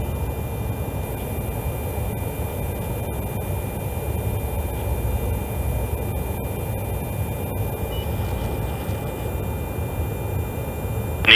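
Fighter jet cockpit engine ambience fills the whole stretch as a constant, dense roar with a low rumble and a hiss across the top, unbroken and alone with no voices.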